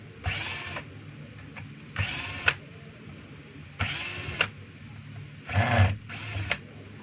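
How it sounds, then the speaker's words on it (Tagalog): A power screwdriver removes a screw from a DeWalt DWE6423 finishing sander in four or five short bursts of whirring, each lasting about half a second, separated by quiet gaps. "tatanggalin na po natin yung screw"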